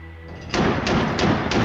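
Mk-38 25mm chain gun firing in a rapid burst, a dense run of heavy, booming thuds that starts abruptly after a quiet moment and pulses steadily to the end.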